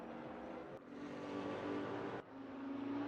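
Race cars in RaceRoom at the Nürburgring, including a Mercedes and a BMW, roar steadily with engine note shifting as they pass, a continuous loud drone with no talk.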